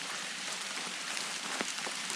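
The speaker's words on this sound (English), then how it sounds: "Not bad though, it's a light rain." Light summer rain falling steadily on a Florida hiking trail in the Green Swamp, a soft continuous patter with a few closer drops standing out, no voices.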